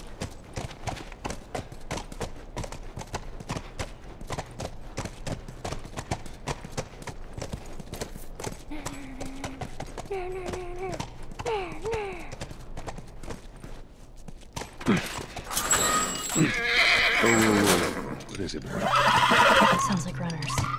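A horse in The Last of Us video game, hooves clip-clopping steadily at a walk with a couple of whinnies and snorts, mostly up close, while characters speak over it and game music swells toward the end.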